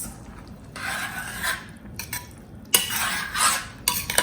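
French beans sabzi with fresh coriander being stirred and mixed in a metal pot, giving scraping, rubbing bursts of spoon against pan in two main stretches with short pauses, close and fairly quiet, with no talking.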